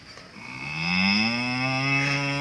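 A cow gives one long, drawn-out moo, close and loud, rising then holding steady with no other sounds around it.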